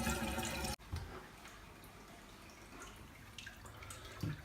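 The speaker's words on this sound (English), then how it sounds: "turn on the water with the proper temperature" Water runs steadily from a tap for an aquarium water change in a continuous hiss, beginning after a brief louder burst, with a few faint drips and clinks over the flow.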